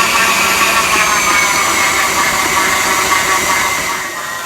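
A stand mixer runs at high speed kneading bread dough for garlic pull-apart bread, giving a loud, steady motor whir with a broad hissing drone that holds for several seconds and eases slightly at the end.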